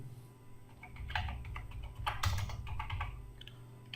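Rapid keystrokes on a computer keyboard as a phone number is entered, a close, uneven run of clicks over a low steady hum.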